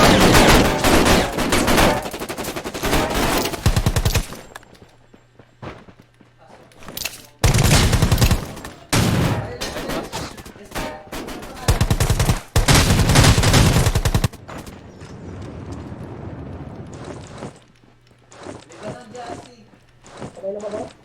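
Gunfire in the mobile shooter Rules of Survival, repeated loud bursts of automatic fire in several volleys, with players chattering between and over the shots.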